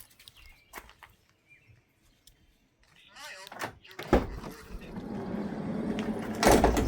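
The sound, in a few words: sliding side door of Travato camper van opening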